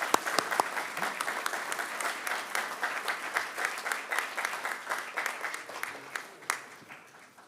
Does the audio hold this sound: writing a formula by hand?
no